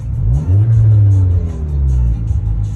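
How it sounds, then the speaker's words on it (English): An Audi A4 B7 engine rumbles loudly up close, revving up and easing back down in a low, steady drone. "But it revs normal, it has steady idle"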